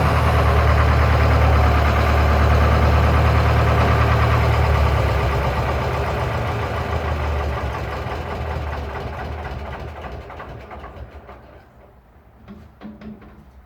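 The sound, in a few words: Lister ST2 engine running on Winget Four/40E dumper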